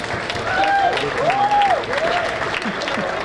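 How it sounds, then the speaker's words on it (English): Students at a congregation ceremony for African students stand and applaud guests from an embassy, a continuous wash of crowd clapping that continues while a voice talks over it. "All the students, please stand up and applaud for the guests from Embassy."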